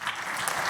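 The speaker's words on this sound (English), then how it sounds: "you all have to clap" A brief burst of dense audience clapping at a public science-and-cooking lecture on emulsions and foams, heard up close and without speech.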